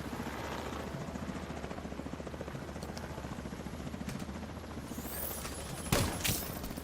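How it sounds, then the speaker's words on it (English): A helicopter's steady rotor chop pulses throughout in the video game Division 2, with a couple of sharp bursts of game gunfire near the end. "I hear a helicopter."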